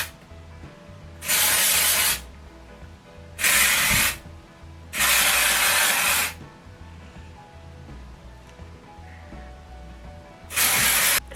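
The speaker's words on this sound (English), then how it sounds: "I'm going to start off just popping some dry shampoo in it" Four separate hissing sprays of dry shampoo are directed around the edge of the hair, each lasting about a second, with quiet gaps between them.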